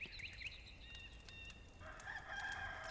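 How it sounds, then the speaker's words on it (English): Rooster crowing at dawn in the game Enshrouded, a rising cock-a-doodle-doo call heard twice at moderate distance over soft ambient background, with no talking. "There is the official cock-a-doodle-doo. It is now officially morning."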